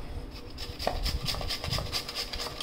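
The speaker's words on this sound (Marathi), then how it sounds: "चला आता आपण बटाटा किसून घेऊया।" A potato rubbed over a large kitchen grater, making a close, rhythmic series of scratchy strokes at an even pace with faint low knocks beneath.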